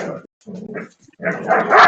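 A dog named Kobi barks in short, sharp bursts close by, with a brief gap before a louder run of yelps and barks at the end.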